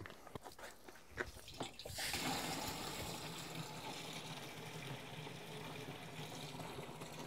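Water pours into a garden sprayer pump being filled for a tomato treatment, a faint splash giving way to a steady, even rushing fill that runs alone to the end.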